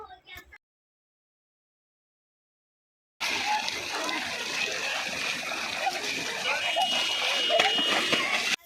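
Water in a stream at a village fair site splashes and rushes continuously after a brief silent gap, a steady close-up wash of water with no clear talk.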